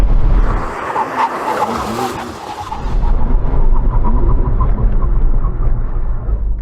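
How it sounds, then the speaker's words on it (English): A McLaren Artura brakes hard from 100 mph in a brake test, its tires skidding with a loud, sustained rushing scrub of tire noise and road roar that fades briefly and then swells again, with no talk over it. "let's just see how good the braking is on this car with a brake test from 100 miles an hour"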